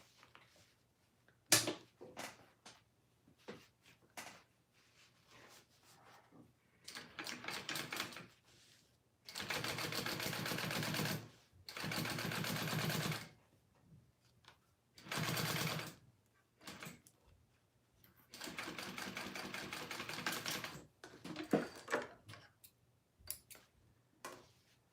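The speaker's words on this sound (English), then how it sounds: "you want to do the same thing and top stitch on this side too" A sewing machine top stitches a wallet with Peltex interfacing, running in several bursts of rapid mechanical chatter separated by quiet pauses and small ticks and clicks.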